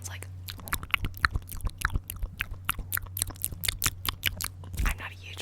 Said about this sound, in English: I'm not a huge fan of eating sounds or really wet mouth sounds